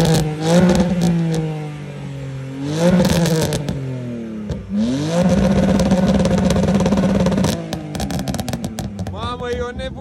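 A BMW E46 328i prepared as a drift car, parked in front of a house and revved hard: loud repeated throttle blips rising and falling, a sustained high-rev roar with crackling clatter, and brief voices between pulls.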